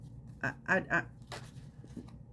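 Tarot cards riffled and shuffled by hand in a few quick papery bursts, close up, with faint room noise between and a voice murmuring underneath.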